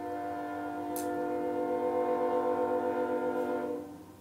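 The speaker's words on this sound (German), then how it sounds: "Der Zug kommt" A train approaches, its sustained multi-tone horn sounding steadily and loudly for several seconds before fading, with a brief whistle-like burst partway through.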